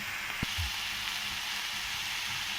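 Drumstick flowers fry in a pan with a soft, steady sizzle, close and fairly quiet, broken by a couple of brief knocks early on.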